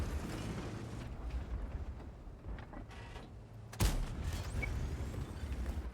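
A single heavy tank gun blast in a video game booms out midway, sharp and loud, over a constant rumbling engine drone.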